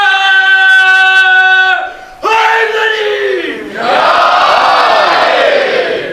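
A large crowd at a Muharram majlis in Kanodar, Gujarat, shouts a religious slogan in loud unison. A strong, sustained chanted call is answered by a massed roar of voices, close and filling the space.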